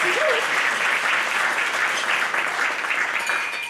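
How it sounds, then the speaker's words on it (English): At the 2025 McSilver Awards ceremony, a large crowd applauds its nominees in a continuous, full wash of clapping that holds steady throughout, with a brief voice near the start. "Please give them a big round of applause for all of our nominees."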